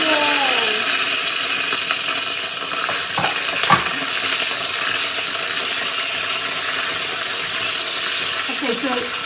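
Chilies sizzle and fry in hot oil for a tadka while making Hyderabadi Chicken 65, a steady crackling hiss with occasional stirring clinks, close and continuous.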